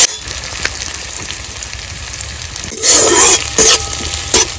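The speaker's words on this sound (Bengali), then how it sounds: "সবকিছু আমি একটু মিডিয়াম ভাবে ভেজে নেবো" Dried red chillies and spices frying at medium heat in a pan, a fairly loud sizzle with a few sharp knocks and short louder bursts of stirring toward the end.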